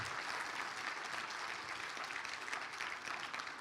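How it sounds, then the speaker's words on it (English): An audience at a valuation seminar claps steadily, a dense, even wash of applause that holds at a moderate level for a few seconds with no talk over it. "Big clap for us."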